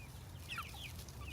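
Backyard hens of a Welsummer and Ameraucana mix cluck softly in a few brief, scattered calls over a steady low outdoor rumble.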